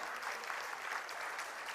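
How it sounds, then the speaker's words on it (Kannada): A dense, steady burst of audience applause welcomes a guest onto the stage at a community get-together in Bengaluru. The clapping is close and sustained throughout, with no voices standing out. "ನಿಮ್ಮೆಲ್ಲರ ಜೋರು ಚಪ್ಪಾಳೆಯೊಂದಿಗೆ ಅವರನ್ನ ವೇದಿಕೆಗೆ ಬರಮಾಡೋಣ"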